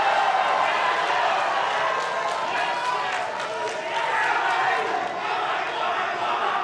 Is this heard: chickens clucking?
no